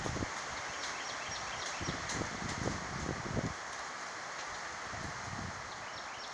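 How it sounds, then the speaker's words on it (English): Wind gusting outdoors near an oak tree in open countryside, a steady broad rush with stronger buffeting early on, faint bird chirps scattered through. "It's too windy."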